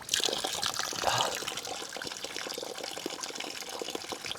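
Alaskan glacier spring water gushing and splashing out of a pipe, a continuous bright rush that is strongest near the start, then steady.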